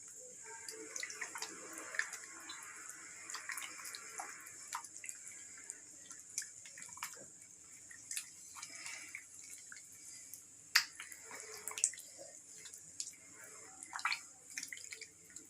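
Wet squelching and soft splashy slaps as soaked wheat flour is stirred into water by hand in a bowl, with irregular dripping and clicking pops spread across a quiet, close-up scene and no talking.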